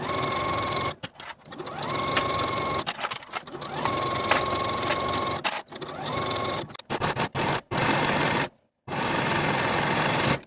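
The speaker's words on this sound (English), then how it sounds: "Sew both seams with a 5/8 inch seam allowance and finish the raw edges." A sewing machine stitches the seams of a wrap skirt in several bursts, its motor whine rising and falling between short stops and a brief silence near the end.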